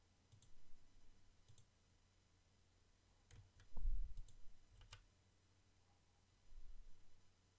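Hotkeys pressed on a computer keyboard while building Sims 4 objects: a few faint, scattered clicks and taps with quiet pauses between, close and soft.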